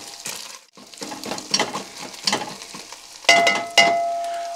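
Ground meat breaking up and browning in a pan: a soft sizzle with repeated scraping, pressing strokes of a utensil and a couple of sharp clinks against the pan near the end.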